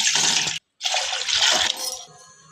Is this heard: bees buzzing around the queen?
no